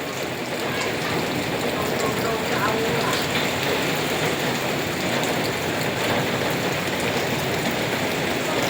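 Heavy rain and strong gusting wind from a sudden storm in Nakhon Phanom, Thailand, roar as one loud, steady wash of hiss that never lets up.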